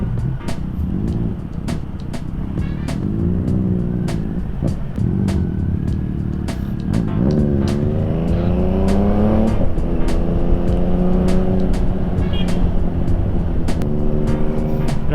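Riding a Yamaha MT-09 motorcycle through city traffic in Iloilo, a steady loud engine drone rises and falls with shifting revs, while close wind rumble and passing vehicles fill the background.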